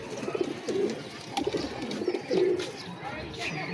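Pet pigeons coo nearby in a series of low, throaty rolling calls, several distinct coos in a few seconds, heard alongside someone talking.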